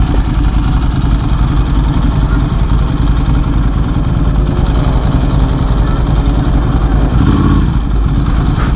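A Ducati motorcycle, set up as a sleeper dirt bike, idles loud and close with a steady, throbbing engine note. The pitch shifts slightly at a couple of points.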